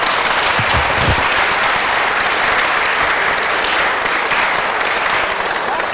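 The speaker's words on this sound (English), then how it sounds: "Let's give Joanna another round of applause." Audience applause fills the room at the close of a lecture on Carl Jung and the Gnostic Gospels, a steady dense clapping from a crowd that holds evenly loud throughout with no voices over it.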